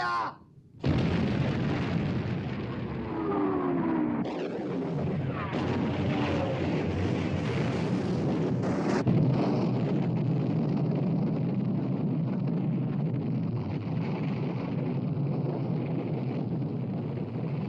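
Naval guns on a WWII battleship fire amid explosions at sea, a loud sustained roar of blasts and rumbling booms with a few sharp bursts, dense and continuous throughout with no clear talk.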